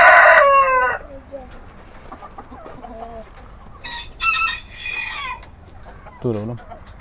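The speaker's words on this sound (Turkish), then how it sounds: "Bunlar da brakel yarkalarımız" Brakel pullets and other chickens clucking in a coop, with a loud squawk at the start, then scattered nearby clucks and calls, a rooster-like crow in the middle and a low guttural call near the end.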